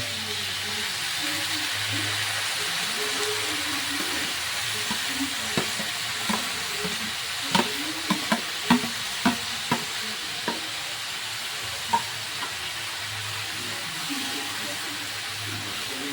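Bean sprouts (toge) stir-fried in a hot pan for ginisang toge, a steady close sizzle and hiss broken midway by a run of sharp clicks and scrapes from stirring, with no talking.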